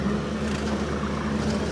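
A tractor runs steadily while bush hogging a rough, rutted field, giving a constant loud engine drone with a low hum and broadband rumble throughout, with no voices.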